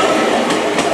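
A JR Shikoku 8000 series limited express train pulls away with a loud, steady rumble of wheels on rails and faint clicking, heard up close with no talk.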